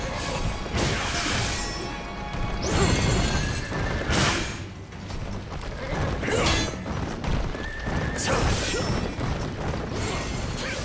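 Game sounds from Wo Long: Fallen Dynasty, a boss fight against Lu Bu on horseback: a horse neighs and whinnies among clanging metallic hits and crashes, with bursts of action rising and falling over a busy background.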